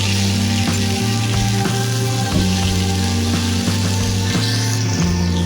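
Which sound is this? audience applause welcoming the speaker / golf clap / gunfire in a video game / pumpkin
pumpkin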